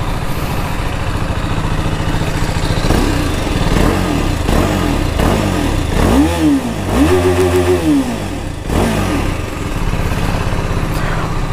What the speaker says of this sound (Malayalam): അപ്പം നമുക്കിതിൻ്റെ എക്സോസ് നോട്ട് കൂടെ ഒന്ന് കേട്ടുനോക്കാം.